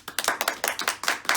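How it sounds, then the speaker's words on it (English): A school assembly claps for a pupil: a quick, even run of about eight crisp hand claps in under two seconds, fairly close and moderately loud, with no voices over them. "Shall we give him a round of applause?"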